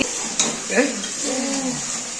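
Food stirred and fried in a home kitchen pan by a father cooking, with a steady sizzle under scraping stir strokes and a faint voice nearby.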